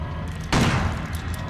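Gunfire from the survival-horror game Crow Country, a sudden loud burst that erupts partway through and rolls on as dense, sustained noise rather than separate reports.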